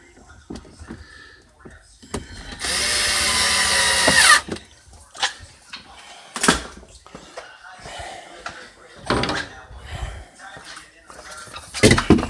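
A power drill drives a screw into a Samsung refrigerator panel during a fan motor repair, one steady whirring burst lasting about two seconds, followed by scattered clanks and handling noises of the panel.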